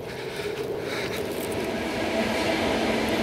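An electric commuter train rumbles past at moderate distance, with a steady low roar and rattling that builds slightly.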